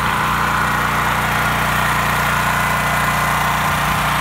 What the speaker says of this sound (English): it comes with a generator, a Honda 6500 watt generator